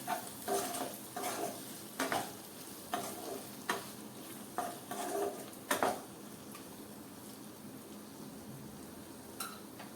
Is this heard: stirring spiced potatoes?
yes